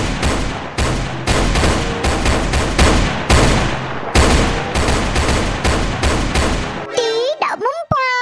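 Rapid bursts of video game gunfire shooting at Skibidi enemies in Roblox Brookhaven, loud and near with dense repeated volleys, ending in a brief sweeping electronic sound effect.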